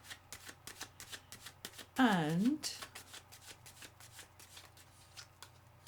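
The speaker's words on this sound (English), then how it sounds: "Okay, a little more shuffle." Tarot cards being shuffled by hand, a quick run of soft crisp riffling taps repeating in an even rhythm, close and fairly quiet, with a brief spoken voice cutting in partway through.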